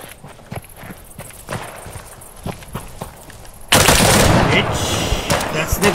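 Gunfire in the survival shooter Deadside: scattered sharp shots and footsteps, then a sudden loud sustained burst of firing and crackle toward the end, with some voice activity mixed in.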